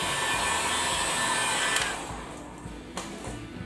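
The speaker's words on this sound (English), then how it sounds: "Warm it up good, Mr. Heat Gun" A heat gun blows a steady roaring hiss while warming the plastic hood of a John Deere mower, loud at first then easing lower and softer partway through, with no voices.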